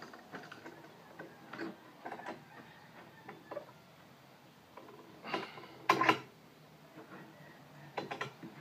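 Clamps on a ukulele build get their final tightening, giving scattered quiet clicks and ratcheting knocks, with a few sharper clunks close up.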